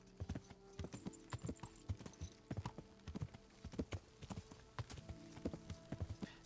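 Horse hooves clip-clop at a steady trotting rhythm while a horse is ridden in the video game Kingdom Come: Deliverance, with crisp, close hoof strikes and no talk over them.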